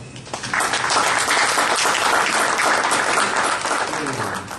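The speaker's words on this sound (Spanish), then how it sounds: "Para dicho expositor solicitamos un fuerte aplauso." A conference audience gives a speaker strong applause, a dense sustained roar of many hands clapping that swells quickly and holds steady.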